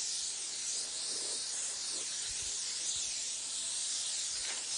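A spray gun lays Snow White Pearl paint onto a vehicle, giving a steady, loud airy hiss that runs unbroken throughout with no talking.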